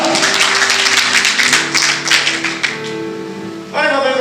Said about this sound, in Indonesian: Kita tepuk tangan buat Tuhan.